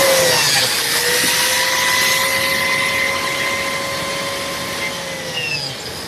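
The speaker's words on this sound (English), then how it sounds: "Now let's cut some biscuit slots." Biscuit joiner cutting slots into wood shelf and fence parts in a woodworking shop: a steady high-pitched motor whine runs throughout, loud and sustained, tapering slightly toward the end with no talk.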